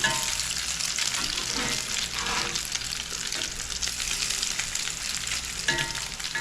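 Salmon fish cakes fry in hot oil with a dense, continuous crackling sizzle that stays loud and close, with occasional sputters as they are flipped.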